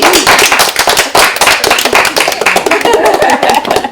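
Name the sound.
group applause, clapping hands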